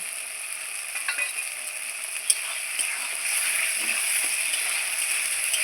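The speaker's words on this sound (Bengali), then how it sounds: "মশলার সঙ্গে খুব সুন্দর করে একটু ভেজে নেব" Cashews and raisins fry with spices in a pan, giving a steady, close sizzle and hiss with a few light stirring scrapes. No one speaks.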